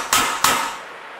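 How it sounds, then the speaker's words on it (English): A small soft-faced mechanics hammer taps a valve on a 1966 Chevrolet C20 L6 292 cylinder head twice, two close, sharp knocks each ringing out briefly, with no speech. "And then just for fun, I take my little soft-faced mechanics hammer,"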